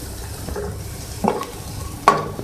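Capsicum and green onion, with garlic and crushed red chilli, are stirred in a frying pan: a low steady sizzle broken by a few sharper scraping strokes near the end, close and moderately loud, with no voices.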